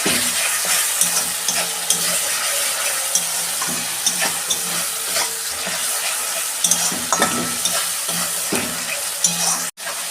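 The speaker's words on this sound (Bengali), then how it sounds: "এই যে আদা রসুনের পেস্ট দিচ্ছি আমি। ভালো করে আমি কষাবো।" Ginger garlic paste sizzles in plenty of hot oil as a spoon stirs it around the pan, a close, steady frying hiss broken by repeated scraping strokes, with a brief dropout near the end.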